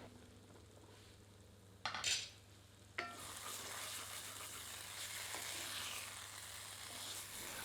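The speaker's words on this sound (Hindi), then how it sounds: "पुनः इसे ढककर 3 से 4 मिनट धीमी आंच पर पकाते हैं।" Drumstick (sahjan) curry simmering under a lid on low heat, a steady soft sizzle with a couple of sharp clatters near the start, likely the lid or a utensil, then continuous bubbling frying.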